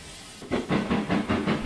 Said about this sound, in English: he backed down into the third platform